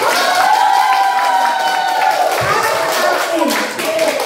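A business presentation audience claps and cheers, steady loud applause mixed with shouting voices throughout.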